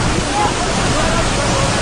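Strong floodwater current rushing through Pali, Rajasthan, a loud, dense, unbroken roar of churning water that fills the whole clip without letting up.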